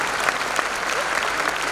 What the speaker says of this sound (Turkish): İsterseniz onları şöyle küçük bir alkışlayalım